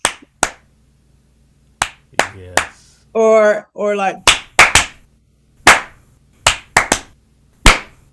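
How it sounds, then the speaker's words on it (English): Nigerian-style rhythmic hand clapping: about a dozen sharp, close claps in a syncopated, uneven pattern, with a short spoken phrase and a sung-like vocal break partway through. "I grew up clapping like this"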